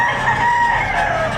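A rooster crows once at a livestock auction market in Padre Garcia, Batangas, a loud sustained call close by over a low background murmur.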